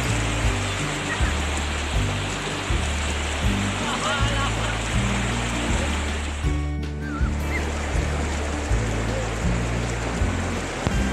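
Cold river water runs steadily in a province outdoors while people wade and splash in it, with a constant broadband wash throughout and a rhythmic low thumping beneath; no words are spoken.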